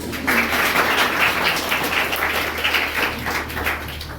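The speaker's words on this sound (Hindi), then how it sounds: "तालियों के साथ स्वागत कीजिए।" An audience gives a steady round of applause at a tuition class inaugurating a new Class 10 batch, welcoming a teacher, sustained and fairly loud from start to finish with no talking over it.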